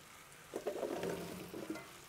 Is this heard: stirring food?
yes